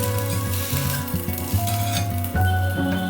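Potatoes sizzling on an oiled grill pan as they are turned, a steady close hiss with light metallic scrapes and clinks, music playing underneath.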